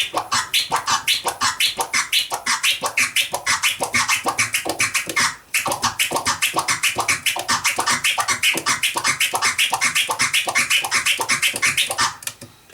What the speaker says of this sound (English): One variation would be to do a reverse OG flare